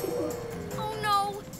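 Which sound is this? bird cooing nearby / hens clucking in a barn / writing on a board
bird cooing nearby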